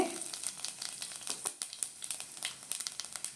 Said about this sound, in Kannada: ನೋಡಿ, ಎಣ್ಣೆ ಕಾದಿದೆ. ನಾನು ಅರ್ಧ ಟೀ ಸ್ಪೂನಷ್ಟು ಸೋಂಪು ಹಾಕ್ತೀನಿ